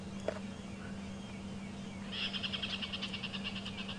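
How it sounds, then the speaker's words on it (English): A faint, rapid series of chattering chirps rises from a quiet outdoor background at sunrise on a safari drive, a squirrel's agitated alarm call at a predator, distant and repeated. "you hear that squirrel is really upset about him."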